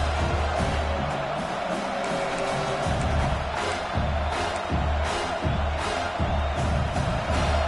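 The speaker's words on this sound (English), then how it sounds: "Big 3rd down as the crowd gets behind this defense" A football stadium crowd roars steadily during a big third-down play in the fourth quarter, a dense continuous wash of cheering and noise with occasional louder swells.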